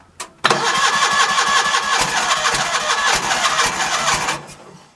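A John Deere 316 lawn tractor engine, just back from carburetor work and started on choke at half throttle, cranks briefly and then fires, running loud and steady close by for several seconds before dying away.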